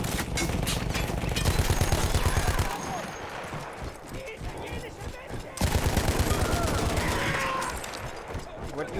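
Machine gun fire in the Battlefield 1 campaign, from a gun once manned by Austro-Hungarian troops, rattles in two loud sustained bursts separated by a quieter gap filled with battle noise.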